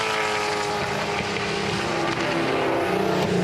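A Dodge Viper V8 race car engine roars loudly and steadily at high revs, close by, with no voices.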